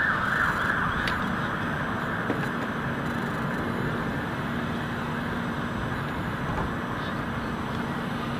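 An emergency vehicle siren, police or fire brigade, wails steadily in the distance across a London City Airport area, a faint continuous tone under a broad airport and traffic rumble.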